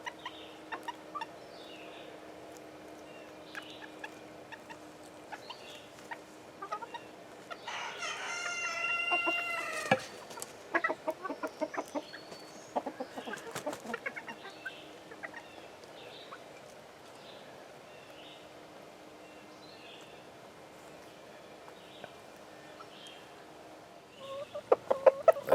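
Backyard chickens, including a small black bantam, cluck and murmur softly nearby, with a loud crowing call partway through followed by a flurry of excited clucks and scattered calls under a faint background hum.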